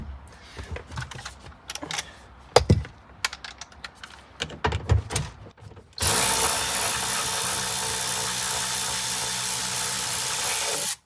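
On a Toyota Verso, a seat belt clamp bolt is worked loose, first with scattered close metallic clicks and taps of a socket, then a steady whirring power tool runs continuously to the end.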